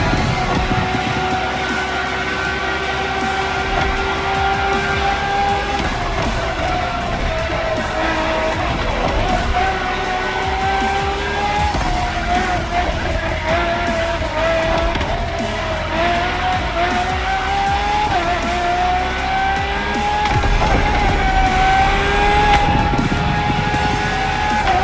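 A Ferrari LaFerrari hybrid supercar with an F1-style kinetic energy recovery system races in The Crew Motorfest, its engine screaming loud and continuous as revs rise and fall through gear changes, with occasional tire squeal.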